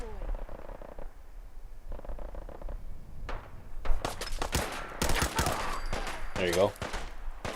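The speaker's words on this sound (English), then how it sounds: "The auto pipe rifle gets its first kill." Bursts of automatic gunfire from an auto pipe rifle in Fallout 4, rapid cracking shots clustered in the second half, with a voice speaking briefly over the action.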